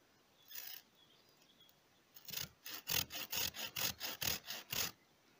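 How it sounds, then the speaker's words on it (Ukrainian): A Chinese hand saw cuts through a pear branch for grafting, one early stroke then a fast run of about ten rhythmic rasping back-and-forth strokes, close and clear, with faint birdsong outdoors. "Я користуюсь такою пилкою, хоч вона не оригінальна, китайська, але дуже приємно і швидко нею працювати."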